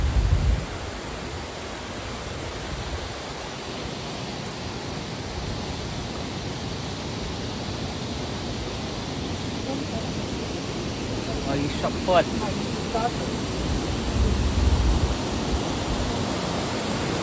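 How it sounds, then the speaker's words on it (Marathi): Rushing water flowing everywhere near the Kalu waterfall after heavy rain, a steady broadband roar close by, with a few brief voices and footsteps over it. "कसलं पाणी वाहतं इकडे"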